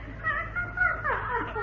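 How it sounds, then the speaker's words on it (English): A dog in an old-time radio comedy gives a few short whimpering yips and whines, close and moderately loud, with no talk over it. "That was a dog."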